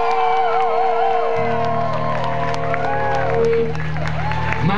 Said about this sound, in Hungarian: Egy kibaszott nagy tapsot magatoknak